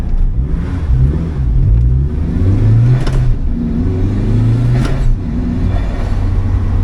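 An Opel Speedster's engine drones loud and close while driving, rising and falling in pitch as it revs through gears, with a steady road rumble beneath.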